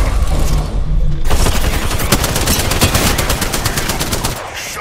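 Loud automatic weapon bursts in Apex Legends start after a brief quieter lead-in, then keep going as rapid, evenly spaced shots close up for several seconds.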